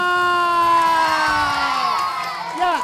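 A crowd cheers and whoops loudly for a few seconds, one sustained shout that swells and then falls away. No clear clapping stands out.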